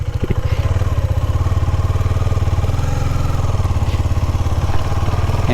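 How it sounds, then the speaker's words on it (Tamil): Motorcycle engine running on a bike ride, a steady close-up rhythmic putter with low throbbing pulses and some clatter, continuous throughout. "எத்தனை நாள் கழிச்சு ஓட்டுற வண்டி"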